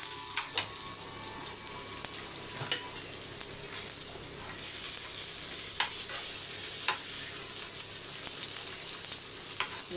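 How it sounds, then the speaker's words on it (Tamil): Masala frying in oil on a dosa griddle, a steady continuous sizzle with scattered crackles and pops, close and moderately loud throughout with no talking. "இது நம்ம தோசைக்கல்ல வறுக்கிறோம்ல"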